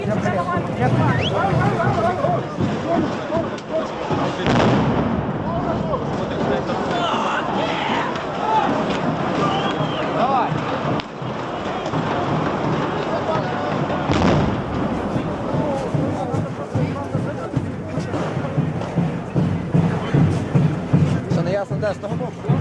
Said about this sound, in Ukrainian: Вони прямо стріляють по людям